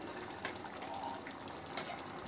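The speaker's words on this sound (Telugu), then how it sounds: "కొద్దిగా పోసుకోండి వాటర్" Water is poured into a pan of green chicken curry, a soft steady splashing gush that runs for a couple of seconds, moderately quiet with no talking.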